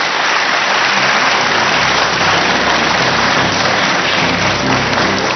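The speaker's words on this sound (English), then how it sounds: "Ladies and gentlemen, a round of applause for our running mates." Audience applause for presidential running mates at a Kenyan running mates event, a dense, steady wash of clapping that fills the whole stretch at high volume without letup.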